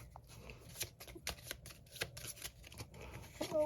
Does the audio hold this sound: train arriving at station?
no